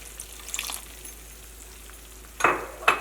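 Sauce for chilli chicken hits a hot pan: a soft, low background gives way to two sharp, loud bursts of sizzling near the end, each one quickly fading. No one speaks.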